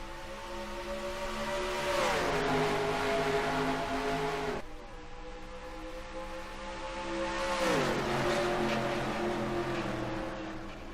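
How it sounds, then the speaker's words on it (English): Race trucks at a green flag start at Darlington in a racing game, a loud steady engine drone that climbs in pitch, drops at each gear shift, then climbs again. "Garrett Sidnor sees the green flag, and green flag's out for this 19 lap race at Darlington."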